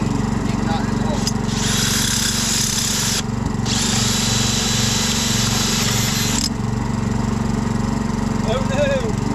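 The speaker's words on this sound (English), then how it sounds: "Give me that drill." A power drill bores a hole through wood in two sustained high-pitched bursts, one a couple of seconds long and another about three seconds, over a steady low hum, with people talking nearby.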